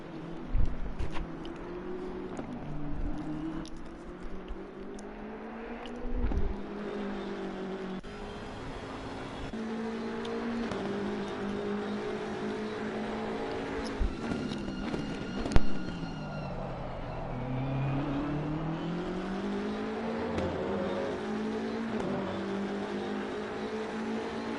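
Race car engines drone steadily at the Zolder circuit, pitch rising and falling as cars accelerate and pass, with a sharp burst midway; loud and continuous with no talking.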